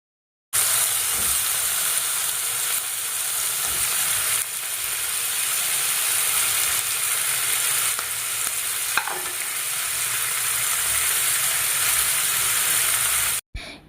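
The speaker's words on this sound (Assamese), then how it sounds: "এইখিনি মই অলপ সময় ভাজি লম" Onion and tomato frying in butter in a pan, with a few garlic cloves, for chicken butter masala, a loud, steady, close sizzle and crackle running unbroken throughout, with no voices.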